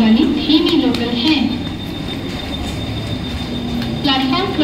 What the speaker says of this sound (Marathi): प्लॅटफॉर्म क्रमांक 1 पर आई हुई लोकल 6:43 की कल्याण जाने वाली धीमी लोकल है